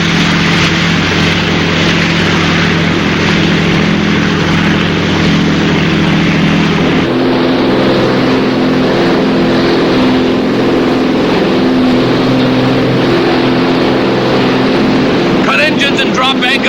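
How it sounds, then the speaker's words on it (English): Boat engines drone steadily with a low harmonic hum throughout, the pitch shifting partway as the throttle changes, on a search vessel at sea; a brief higher rattle comes near the end. "Cut engines and drop anchor right here."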